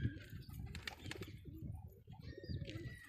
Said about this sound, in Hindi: काफी अच्छे अच्छे कबूतर है हमारे पास।